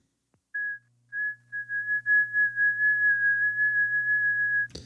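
Shortwave ham radio signal on the 15 meter band, a steady whistling tone on the Icom HF receiver with a low hum underneath, ending in a short burst of noise.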